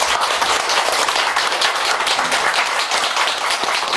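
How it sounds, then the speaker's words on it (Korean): Applause at a Korean Buddhist temple ceremony, a dense, close crowd of clapping hands that stays loud and steady for the full stretch with no talk. "여러분들 큰 박수 한번 부탁드립니다."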